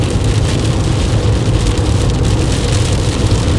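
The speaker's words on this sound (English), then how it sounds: "Heavier rain again." Heavy rain from an Oklahoma or Texas storm pours steadily on a car, a dense constant roar of drops drumming on the surface with low rumbling underneath.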